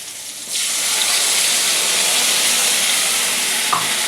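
Fried eggplant sizzles loudly in a pan as spices go in, a sudden jump into a steady, close, hissing fry that holds evenly with a brief clink near the end.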